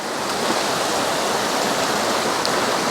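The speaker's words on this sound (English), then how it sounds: "These creek crossings are becoming a normal thing here." A creek rushes over rocks at a crossing on a wet hiking trail, a loud, steady, close roar of flowing water with no voices.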